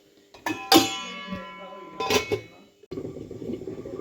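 Chicken curry stirred in a metal pot, then the lid set on: a couple of loud ringing clanks of spoon and pot, followed by softer bubbling, close by.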